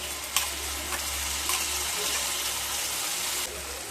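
Tomato paste going into a pan of spices frying for okra do pyaza, a steady hissing sizzle with a few brief splashy spikes, close and continuous with no talking.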